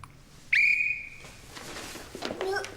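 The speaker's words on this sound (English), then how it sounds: "Red team, on my whistle." A sharp whistle blast sounds once as a signal to a red team at an emergency scene, rising suddenly and trailing off, with a fainter second whistle near the end.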